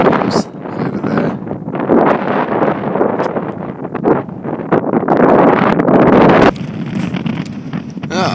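Strong wind on a hill during a walk to Mount Caburn buffets the microphone in loud, rumbling gusts that rise and fall, with brief rustling and a stretch of calmer air near the end.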